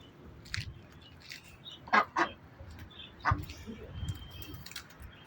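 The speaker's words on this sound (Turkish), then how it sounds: "Burada ördeklerimiz var." Several short, loud duck calls sound at scattered moments, two close together near the start and more later, over low outdoor background noise.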